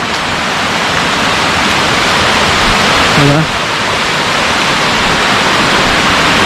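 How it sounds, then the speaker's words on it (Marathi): Water rushes steadily through a small stream in a village garden beside an areca palm plantation, a loud, continuous broadband hiss with no pauses. "पाणी मस्त चाललं आहे"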